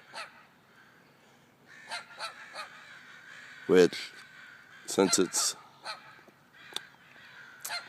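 A flock of crows and smaller birds squabble over a tree, harsh caws and squawks bursting irregularly at middle distance, while a person talks over the commotion.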